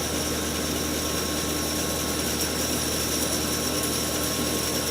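A restored 1925 Oliver bandsaw runs steadily, giving off a constant broadband whir and rush of air from its spinning wheels, with a faint mechanical hum and no cutting.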